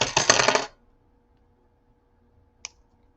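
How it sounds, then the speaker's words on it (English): Wire cutters snip excess beading wire on a beaded jewelry piece. A short, bright rattle of clicks is followed by silence and then one faint, sharp snip. "So I'm going to cut my excess wire."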